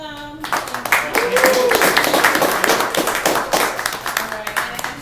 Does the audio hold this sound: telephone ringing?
no